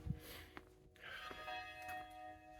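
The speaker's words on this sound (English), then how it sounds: "Church bells are going." Church bells ring faintly in the distance at midnight in Mdina, Malta, their sustained tones hanging over quiet outdoor ambience.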